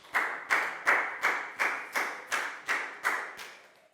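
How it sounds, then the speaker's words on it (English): Classroom applause for a pupil: about ten sharp, evenly spaced claps, close and fairly loud, each fading quickly before the next, with no voices. "Big round of applause for Pak Bung, please, guys."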